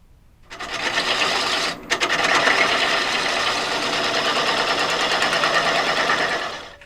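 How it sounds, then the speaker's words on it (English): A cheap lathe ring centre spinning on a worn, noisy bearing gives a loud, steady high whirring drone with a brief dip and stutter near the start, continuous and close without speech. "It's a very noisy bearing in this very cheap ring centre."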